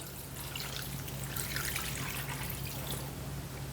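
Two cups of water pour into a pot of braised chicken and spinach stew, a soft, steady trickle and splash over a low background hum, with no talking.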